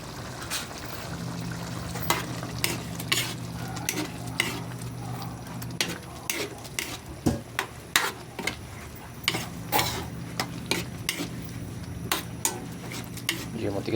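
Ground pork giniling cooks in a pan with a splash of water, a spoon scraping and stirring it in repeated rhythmic strokes over a low, steady sizzle, close and moderately loud.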